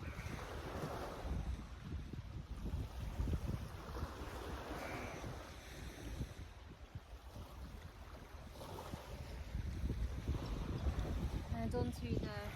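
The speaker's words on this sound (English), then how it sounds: "Listening to the sound of the sea lapping against the shore." Sea waves lap against the shore on a beach, a steady broad wash with wind buffeting the microphone throughout, moderately loud and continuous without clear breaks.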